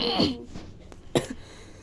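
A couple of short, harsh coughs or throat-clearing bursts, close and fairly quiet, separated by a brief pause.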